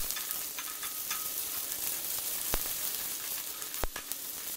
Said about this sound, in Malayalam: ഇനി നല്ലപോലെ ബ്രൗൺ കളർ ആകുന്ന ഇടം വരെ ഉള്ളി മൂപ്പിച്ചെടുക്കാം.